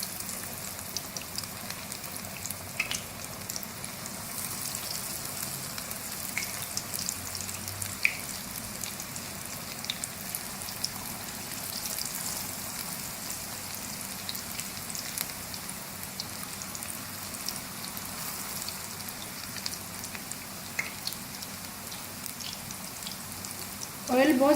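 Pakora batter of potato and spinach fries in hot oil with a steady, soft crackling sizzle and scattered tiny pops throughout, fairly quiet and continuous, with a louder clatter right at the end.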